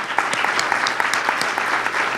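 Applause from the audience at a Life After Fifty community event, dense steady clapping at close range that holds an even level throughout the short stretch.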